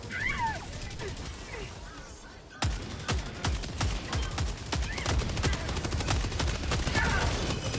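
Gunfire in the video game Helldivers II, loud rapid automatic bursts packed into a sustained volley after a brief lull, with voices talking over the shooting.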